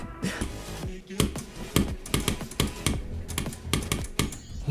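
Rapid, uneven clacking of a computer keyboard during a Burrito Beats game session, sharp close keystrokes in irregular bursts and pauses.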